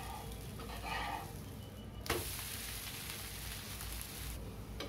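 Adai dosa batter cooks on a griddle over a lowered stove flame, a soft steady sizzle close by, with a brief scraping clatter midway as the dosa is handled, no talk.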